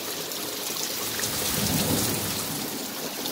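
Heavy rain pours steadily while a deep rumble of thunder from a lightning strike swells midway and then fades back into the downpour.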